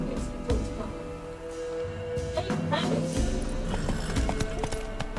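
A horse gallops in The Witcher 3, steady hoofbeats thudding under game sounds and music, with a person talking over it throughout.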